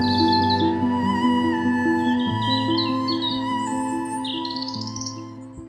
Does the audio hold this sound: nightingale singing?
yes